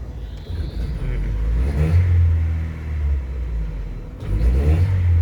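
A car engine with a stumble under throttle revs up and drops back, a loud low rumble swelling and falling, with a brief lull before it surges again near the end.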